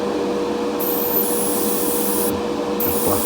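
A poorly spraying airbrush used on a custom Corgi Mini model sputters and hisses, a continuous airy rush with intermittent bursts of higher hiss, close up and alone.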